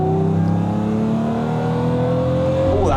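A Jaguar XJS with a V12 engine and six-speed automatic revs up under acceleration, a loud, smooth, rising drone heard from close by with steadily climbing pitch and no talk over it.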